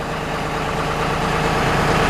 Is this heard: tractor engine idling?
yes